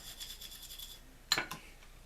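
A brush scrubs the rotor of a Johnson Century Model 100B fishing reel with quick, rhythmic rasping strokes, followed by a couple of sharper scraping knocks, close and fairly quiet.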